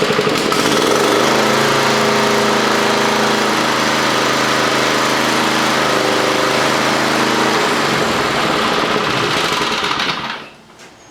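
A Kawasaki FJ180V engine on a Toro commercial mower runs at a steady idle, a close, loud, even drone with a rapid firing pulse that holds evenly for about ten seconds before cutting off.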